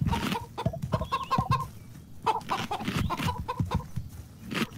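A chicken-hydra creature in the CHKN video game clucks and squawks in repeated bursts, busy and fairly close, with no talk over it.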